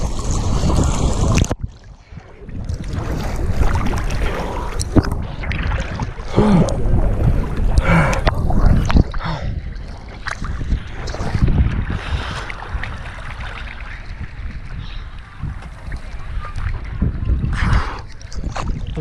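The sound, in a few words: boat moving on the Red Sea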